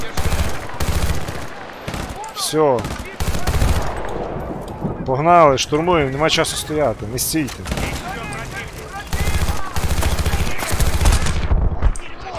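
Machine gun fire in the video game Battlefield 2, rapid bursts of shots under loud, continuous talk with a player urging teammates to push forward.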